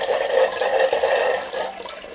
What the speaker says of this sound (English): if you turn this on first, and then you turn the water on